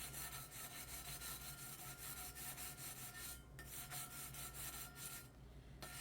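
A sublimation tumbler gets a light hand sanding as it is turned, producing continuous fast back-and-forth rasping strokes, soft but close, with two brief pauses and no talking.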